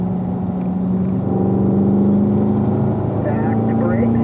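Chevrolet Corvette Grand Sport engine drones loudly and steadily from inside the car while getting back on the power on a race track, with a spoken voice over the engine.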